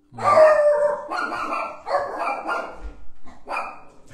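Dog barking indoors, a run of close, loud barks and yelps in irregular bursts with short gaps, ending in a final bark after a pause.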